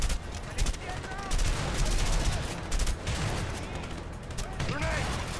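In the video game A Way Out, rapid gunfire bursts crackle through a combat section, with dense overlapping shots and firefight effects running continuously, while a person talks over the action.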